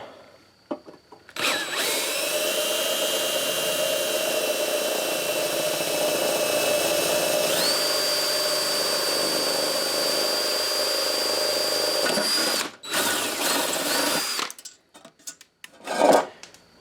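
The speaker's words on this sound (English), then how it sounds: "This has rivets in it, 4 rivets. We're going to have to drill these out." A power drill whines steadily for about eleven seconds, its pitch shifting midway as it bites through a metal rivet on a small engine's recoil starter, then stops, followed by a few short bursts.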